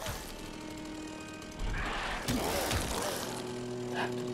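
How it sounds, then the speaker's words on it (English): A chainsaw revs in the horror video game Beyond Hanwell, a buzzing mechanical drone that rises and grows louder partway through, heard alone without talk. "Chainsaw is so good."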